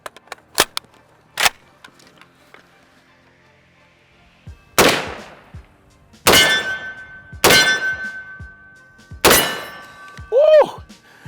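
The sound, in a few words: FN SCAR 17S .308 rifle shots fired one-handed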